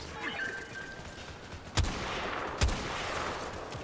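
Two sharp, booming gunshots from a six-shot weapon in a shooter video game ring out about a second apart, each with a short decaying tail, over a steady background of game ambience.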